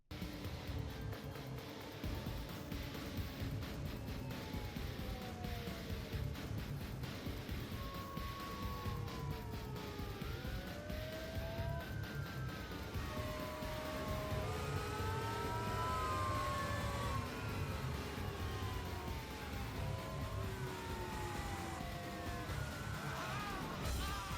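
Wailing police sirens from several chasing cop cars in a film car-chase scene rise and fall continuously over a dense rumble of traffic and engines, loud and sustained throughout.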